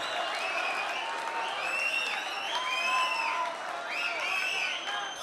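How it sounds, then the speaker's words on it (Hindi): Audience applause at a poetry recital, with shrill whistles rising repeatedly above a steady wash of clapping and cheering from a sizeable crowd, loud and continuous. "मैं तो तालियों से भी गुरेज करता हूँ, आप सीटियां बजा रहे हैं।"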